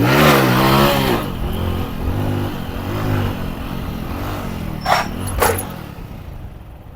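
Motorcycle practicing a gear-shifting wheelie: engine revs high, dips through a shift and pulls again, then holds a steadier drone with a couple of short sharp sounds near the end, no talking.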